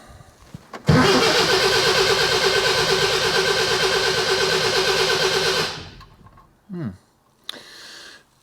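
A classic Mini's engine cranks and turns over steadily for about five seconds, close by and fairly loud, without catching. It then stops, followed by a few brief, quieter mechanical noises.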